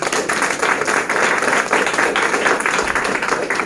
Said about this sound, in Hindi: ताली जोर से बजानी चाहिए।